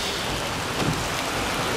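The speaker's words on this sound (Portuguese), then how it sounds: "Muita chuva" Heavy rain pours steadily in a dense, unbroken hiss, loud and close, during a downpour in São Paulo, with no voices.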